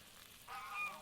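Geese honking on a farm, a short burst of a few nasal calls that starts partway in and stays faint and somewhat distant, with no voices.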